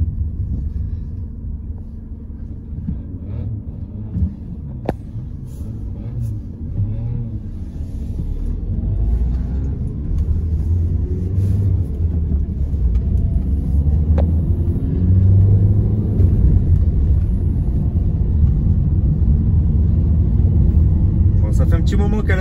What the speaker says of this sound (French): La 205, on la ramène au garage. Elle roule,